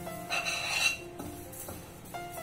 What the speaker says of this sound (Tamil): இந்த ஓட்ஸ் எடுத்து நம்ம நல்லா வறுக்க போறோம்